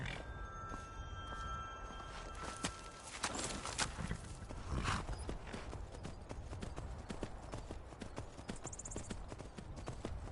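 Horse hooves clip-clop in the Skyrim video game, a steady rhythmic run of hoof beats close up, with chiming game sounds over the top and no talk.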